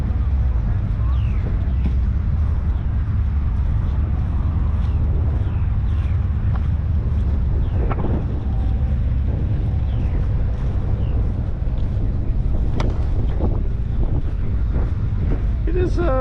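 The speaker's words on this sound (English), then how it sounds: "It is quite windy out here today." Steady wind buffets the microphone outdoors on soft, muddy, waterlogged ground at a hot rod car gathering in Indianapolis, a constant low roar with faint distant activity in the background.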